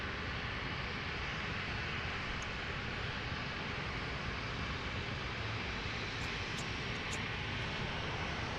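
Steady, loud roar of a Ryanair jet airliner's engines on the runway at Lisbon Airport at night, a continuous broadband rumble with faint high whines near the end.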